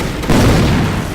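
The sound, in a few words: grenade explosion in a video game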